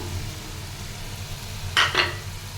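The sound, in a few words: fried hilsa fish heads added to gourd curry, cooking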